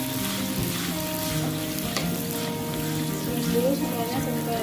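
Ground spices for Padang-style rendang stir-fry in a pan with a steady, dense sizzle that runs throughout, close and fairly loud, with a faint clink near the middle.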